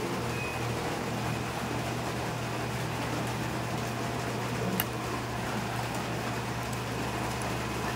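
A steady wash of heavy rain falls in a rural Philippine province, a constant even hiss with a low hum beneath it, with no talking.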